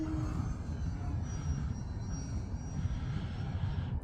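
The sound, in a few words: RC acrobatic 3D model airplane flying overhead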